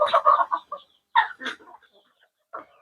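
Native chickens on a poultry farm cluck in short, close bursts, several quick calls in a row, a pause, then more scattered clucks.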